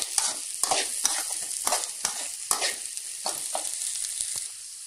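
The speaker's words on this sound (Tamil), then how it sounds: "இதை நல்லா மிக்ஸ் பண்ணிக்கலாம்." Fish puttu mixture with curry leaves being stirred and sautéed in a hot pan, a spoon scraping in a steady rhythm over a continuous close sizzle.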